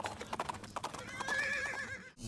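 A returning horse clip-clops in quick hoofbeats and then gives a loud, wavering whinny at close range, in a Bollywood comedy film scene.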